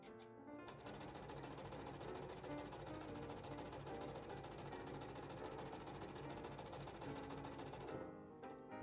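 A sewing machine stitching fabric squares placed right sides together, running as a steady, rapid mechanical whir for about eight seconds before stopping.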